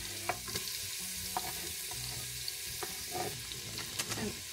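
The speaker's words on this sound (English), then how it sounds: "I just put a little bit of water, just carefully." Water poured carefully into a hot pan to deglaze burnt bits from an oxtail curry: a soft hiss and sizzle with scattered light scraping and clinking, fairly quiet.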